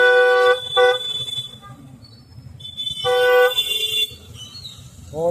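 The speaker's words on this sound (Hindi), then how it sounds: "बहुत ट्रैफिक है भाई, बहुत ट्रैफिक।" Car horns honk repeatedly through heavy, slow-moving road traffic in Gurgaon, with several long, loud toots and a few shorter ones close by over a steady traffic rumble, and brief speech in the background.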